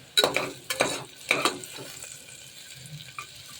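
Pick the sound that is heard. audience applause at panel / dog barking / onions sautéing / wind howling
onions sautéing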